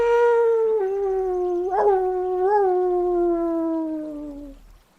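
Dogs howl together in a long, wavering, mournful tone that rises briefly in pitch twice before sliding down and fading out, loud and close with no talking.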